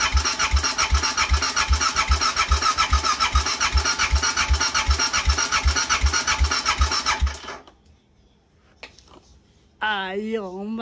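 A Husqvarna 650 motorcycle's engine cranks over and over in a rapid, rhythmic starter whir that fails to catch, then stops into near silence before a voice speaks.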